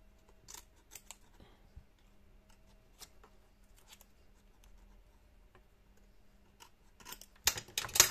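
A cardboard Kinder Country box is cut by hand in a quiet room: sparse, sharp snips and clicks at irregular intervals, then a louder burst of rustling and cutting at the end. No one speaks.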